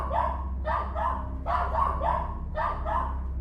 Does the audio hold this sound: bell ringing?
no